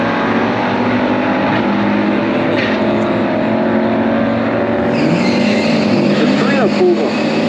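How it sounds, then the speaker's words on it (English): A 375-horsepower 1969 Camaro Super Sport races a Torino Cobra with a 429 Super Cobra Jet, 4-speed and 4.33 gears at a pure stock drag strip. The loud, sustained engine roar holds steady throughout while an announcer talks over it. "He's got this 375 horse Camaro Super Sport. 1969 going against this Torino Cobra, 429 Super Cobra Jets, 4-speed, 433 gears."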